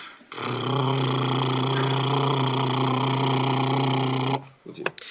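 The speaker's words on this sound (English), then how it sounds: "background overall car sound" A steady, even generic car engine hum at 1000 RPM holds for about four seconds, then cuts off, followed by a few brief knocks.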